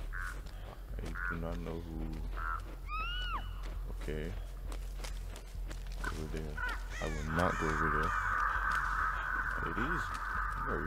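Crows caw repeatedly in the horror game Dead by Daylight, harsh calls scattered over steady background ambience with footsteps, while a player talks throughout.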